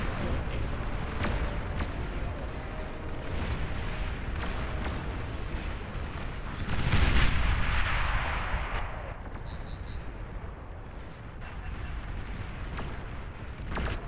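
Long-range plasma cannon fire in the Beyond All Reason strategy game: a dense wash of booming shots and impacts swells to a heavier blast midway, then continues as scattered thuds and crackles.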